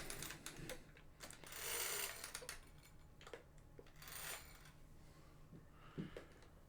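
The winding mechanism of an Al Vista 3B film camera gives off a series of quiet, close mechanical ratcheting clicks and whirring bursts, irregular in rhythm over several seconds.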